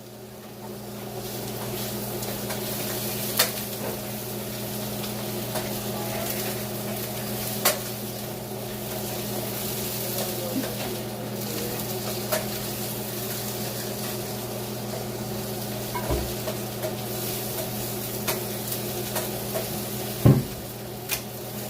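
Breakfast food being stirred vigorously in a pan, a soft steady sizzle under a constant low hum, with occasional faint scrapes and clinks of utensil against the pan.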